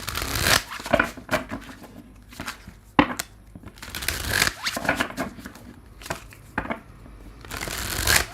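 A tarot card deck being shuffled by hand, close and crisp, in repeated riffling bursts separated by short pauses.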